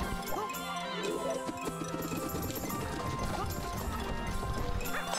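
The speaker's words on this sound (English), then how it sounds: "It's another horse." A horse in the video game Clive 'N' Wrench gives steady clip-clop hoofbeats and a whinny, mixed into busy game music and effects at a constant level.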